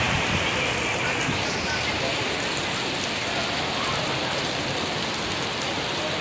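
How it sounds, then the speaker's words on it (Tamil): Heavy rain pours steadily onto Besant Nagar beach in Chennai, a dense, loud, unbroken hiss that fills the whole stretch with no pauses. "மழை கொஞ்சம் விட்டுச்சு மழை ஸ்டார்ட் ஆகிடுச்சு"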